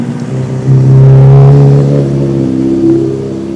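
Sportsbike engine running at idle with a fault, a loud, steady low hum with a slight swell in pitch partway through; no voices.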